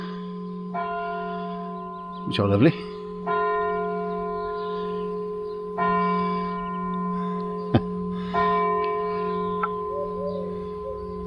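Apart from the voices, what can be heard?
church bells ringing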